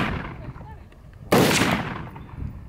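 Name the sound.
M4 rifle gunshots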